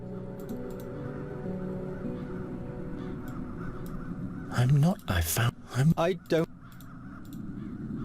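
Crows in The Dark Eye: Chains of Satinav give a burst of several loud, harsh caws close together after a few seconds of low ambience, with a voice speaking briefly.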